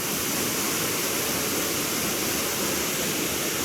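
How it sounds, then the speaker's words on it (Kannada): Surmane waterfall on a Netravati trek roars with a dense, steady rush of falling water, loud and close with no break. "ಬಟ್ ಯಾ ನೋಡಿ ಮಸ್ತಾಗಿದೆ ಫಾಲ್ಸ್"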